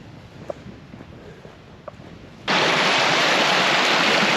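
The Hurricane River flows near Lake Superior in Pictured Rocks National Lakeshore, a soft outdoor wash that abruptly turns into a loud, steady roar of rushing water.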